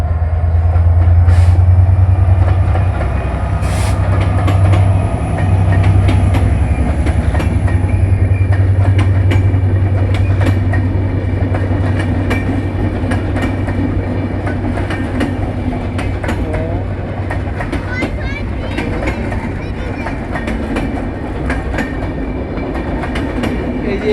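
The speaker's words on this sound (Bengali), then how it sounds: "পঞ্চগড় থেকে ছেড়ে আসা ঢাকা অভিমুখী আন্তনগর দ্রুত এক্সপ্রেস ট্রেনটি চিরবন্দর ছেড়ে যাচ্ছে।" Dhrutojan Express intercity train departing Chirirbandar station bound for Dhaka from Panchagarh, a loud steady rumble of rolling cars with clickety-clack of wheels throughout, close by and continuous.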